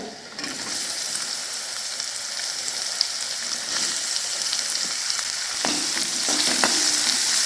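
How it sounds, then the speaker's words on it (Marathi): Finely chopped onion sizzles and fries steadily in a pan with garlic, curry leaves and spices, with occasional stirring scrapes and spatula clicks over the constant hiss, close and fairly loud. "दोन मिनटं कांदा भाजून घेऊया"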